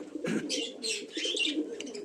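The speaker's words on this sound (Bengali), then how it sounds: "এই বেশ ভালো পায়রাটা" Kaldoma Giribaz pigeons in a breeding loft, soft low cooing repeated in short throaty phrases with a few faint higher chirps, close by and quiet, no talking.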